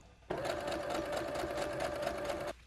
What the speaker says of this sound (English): I'll fold it about a little bit less than a centimeter, and I'll just stitch all around.